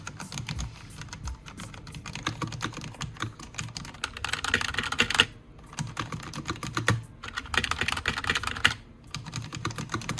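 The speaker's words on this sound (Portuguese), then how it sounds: "O teclado novo tem umas teclas muito mais firmes" A Corsair K60 RGB keyboard with firm Cherry switches is typed on in quick, steady bursts of close clicky keystrokes, with short pauses between runs and no talking.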